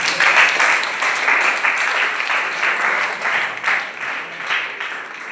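Applause from an audience of students at a residential summer camp, a dense steady wash of many hands clapping that fills the room and fades slightly toward the end.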